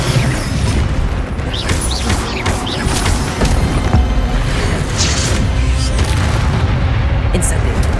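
Repeated Incendio fire spell blasts in Hogwarts Legacy, loud booming whooshes and crackling bursts over a dense, continuous combat din, with a voice talking over the action.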